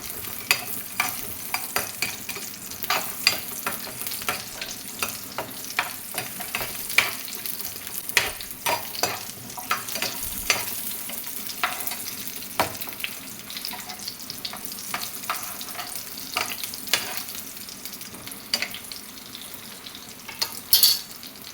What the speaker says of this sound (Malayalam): ചെറിയ ഉള്ളി അതിലേക്ക് ഇട്ട് കൊടുത്തു കേട്ടോ നന്നായിട്ടൊന്ന് അത് വയറ്റി കൊടുക്കുക